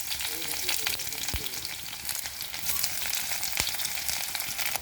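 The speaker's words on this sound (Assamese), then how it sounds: "মই পিঁয়াজখিনি অলপ অলপ ৰঙা পৰাকৈ ভাজি লৈছোঁ" Onions fry in hot mustard oil in a kadai, a steady dense sizzle throughout with occasional clinks of a stirring spoon.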